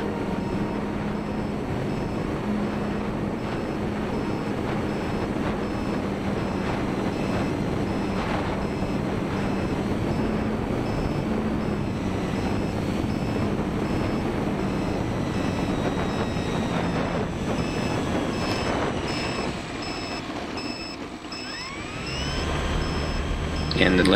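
A Tundra V2 RC model airplane with a new propeller cruises overhead. Its thin motor-and-prop whine drifts over a steady broadband hiss, faint and distant, then fades toward the end.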